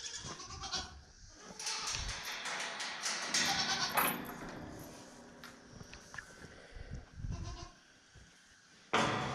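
Goats on a farm bleat repeatedly at close range around milking time, their cries mixing with shuffling hooves and movement noise throughout.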